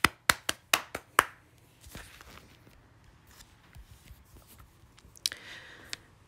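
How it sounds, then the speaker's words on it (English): A handful of sharp, quick claps ring out close by during a first-grade lesson, followed by quiet rustling and a couple of faint taps. "Give yourself a round of applause."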